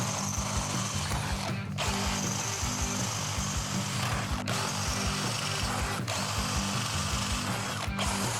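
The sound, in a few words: drilling the cover with a 6 mm drill bit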